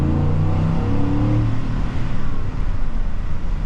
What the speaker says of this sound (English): he's probably gonna hear me with my little exhaust going crazy